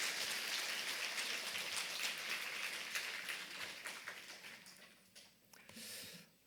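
A church congregation at a Christmas Day Sunday service applauds together, a dense patter of many hands clapping that holds steady, then thins and fades unevenly toward the end, with no speech over it.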